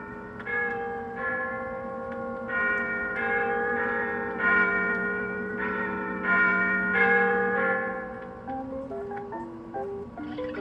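A large bell tolls repeatedly with long ringing overtones, each strike overlapping the last, loud and resonant, then a few lighter chime notes near the end.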